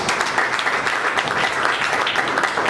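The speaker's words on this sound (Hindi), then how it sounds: "जोरदार तालियां" A crowd applauds steadily, dense clapping from many hands that stays even and loud throughout.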